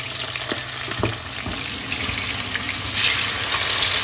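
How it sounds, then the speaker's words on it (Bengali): Fish frying lightly in a pan, a loud steady sizzle with a few dull knocks early on, the hiss swelling stronger toward the end, close and without talk. "এখানে মাছগুলোকে বেশি ভাজবো না, হালকা একটু ভাজলে কোথায় ফেলি।"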